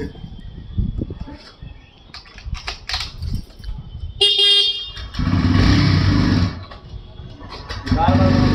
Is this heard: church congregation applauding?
no